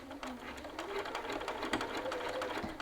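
A sewing machine runs steadily while stitching a lapel, a quiet continuous whirring stitch rhythm for a few seconds.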